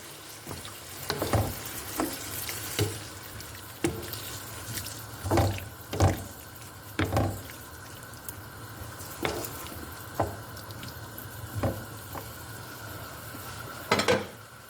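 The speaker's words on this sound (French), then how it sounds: "Vous remuez ça et vous allez laisser cuire." Caramelised pork being stirred in a pot after water and veal stock go in, with repeated utensil clinks and scrapes against the metal over a low simmering bubble, fairly close, no talking.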